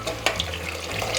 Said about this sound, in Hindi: तो अब हम इसमें पानी ऐड कर देंगे।